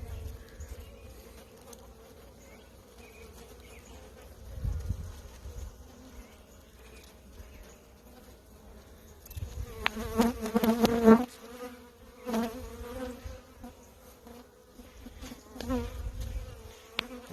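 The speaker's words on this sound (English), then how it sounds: "these bees immediately went to work on this protein patty here." Honey bees buzz steadily close by at an open hive in spring, a continuous droning hum that swells louder for a few seconds in the middle.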